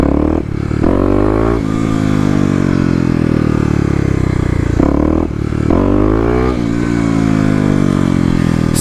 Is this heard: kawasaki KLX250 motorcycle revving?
yes